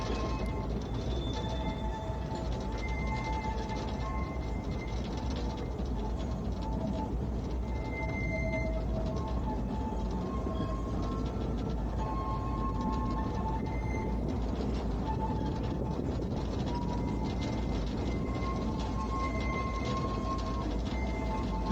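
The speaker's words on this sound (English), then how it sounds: "we once again get a good view of the two locomotives working our train in front of us" Heritage railway train double-headed by two locomotives, heard from aboard as a continuous loud rumble of wheels and running gear with faint birdsong on top, steady throughout.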